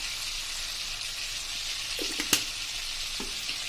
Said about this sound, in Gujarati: જીરું કકડી જાય એટલે આપણે એમાં સેજ હિંગ નાખી દેશું